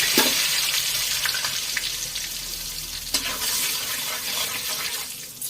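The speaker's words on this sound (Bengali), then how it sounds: "এবার ওই তেলে আমি লবণ আর হলুদ গুঁড়ো দিয়ে দিচ্ছি।" Salt and turmeric powder sizzle in hot oil with a dense, bright crackle, marked by a few sharp pops and a sudden burst midway.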